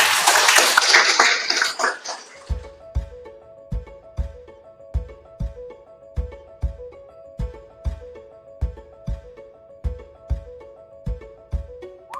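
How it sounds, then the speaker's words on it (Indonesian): Audience clapping at a teachers' positive school culture presentation: a dense burst of applause at first, then a slow, regular beat of single claps or taps over a sustained musical tone. "tepuk tangan dulu untuk kita semuanya"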